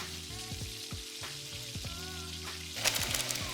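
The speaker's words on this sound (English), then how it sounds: "Now I'm getting some sizzling there" Noodle soup with extra chili paste sizzling and frying in a pan, a steady close crackle running throughout with soft clinks and stirring knocks, growing brighter and louder near the end.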